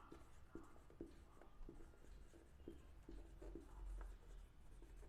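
Pen scratching across paper while a journal entry is written by hand, a soft irregular series of short strokes and taps, close and quiet, with no one talking.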